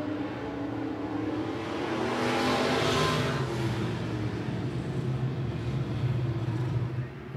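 IMCA stock car engines rumble at the I-76 Speedway, a loud, steady pack of engines that swells as the cars pass under a caution restart, with faint talk beneath.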